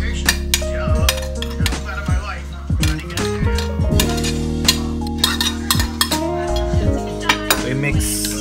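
Chopped Bombay onion, ginger, leaves, chili and serrano sizzle in a pan for Filipino paklay and sisig, with a utensil stirring and scraping, and with repeated metallic clinks ringing over the steady frying hiss close by.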